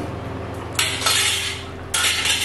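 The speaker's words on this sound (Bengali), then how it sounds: "তারপরে একটু নাড়াচাড়া করে দিয়ে" A spoon stirs khichuri in a cooking pot, giving a few sharp scraping clinks against the metal in short bursts over a low background hum.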